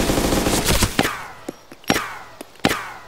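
Gunfire in the video game DayZ Epoch: a rapid burst of shots followed by several separate sharp reports spaced irregularly, loud and close, with no talk.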